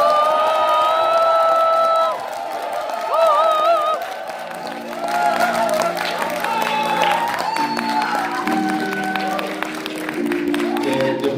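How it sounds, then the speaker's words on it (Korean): An audience at a book concert in a hall gives loud, sustained cheering, with high whoops and shouts over steady applause that carries on for several seconds. "뜨거운 박수와 함성 부탁드리겠습니다"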